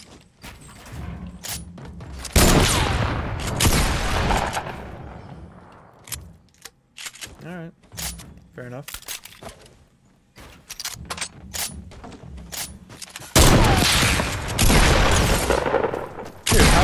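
Gunfire in a console first-person shooter match, with bursts of loud rapid shots at the start and again near the end, and scattered single shots and impacts between them.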